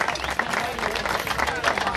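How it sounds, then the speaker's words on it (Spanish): Audience applause for Hugo and his samba group, a dense, continuous wash of clapping and crowd noise filling the whole moment. "vamos a darle un fuerte aplauso a Hugo y a todo su grupo"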